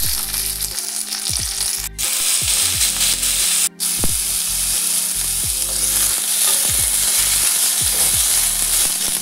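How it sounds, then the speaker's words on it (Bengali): Steady, loud sizzling of karonda berries frying in hot spiced oil, with spoon scrapes and clatters against the pan throughout. "মশলাটা একটু ভাজা ভাজা হতেই এখানে দিয়ে দিলাম করমচা"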